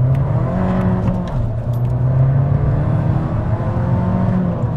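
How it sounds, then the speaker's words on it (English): Fiat Abarth 595 Competizione with its turbocharged engine, a steady loud drone heard from inside as the car drives, with a brief dip in pitch like a gear change partway through. "now it's time to drive the Fiat Abarth properly"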